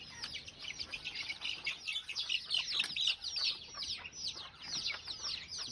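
A flock of chickens chirps and clucks continuously during a fowl pox vaccination session, a dense overlapping chatter of moderate level with no talking.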